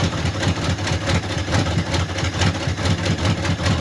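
A rough engine in a 1950 Ford F1 truck runs unevenly on two cylinders, with a loud, steady low chugging and no voices.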